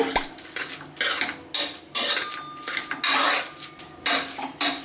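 Cooked rice being mashed in a pot for fruit curd rice, with bursts of metal spoon scraping and clinking against the pot that come in uneven strokes, close and with no talk.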